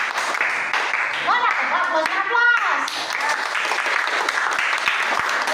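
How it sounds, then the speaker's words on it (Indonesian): An audience in a classroom session claps steadily throughout, sustained applause with a voice talking over it partway through. "itu beri aplaus dulu dari aplaus"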